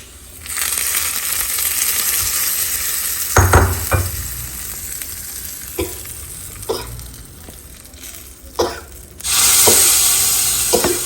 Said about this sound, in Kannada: ಈಗ ಸಾಸಿವೆಗೆ ನಾವು ಒಗ್ಗರಣೆ ಹಾಕ್ಕೊಂಬಿಡೋಣ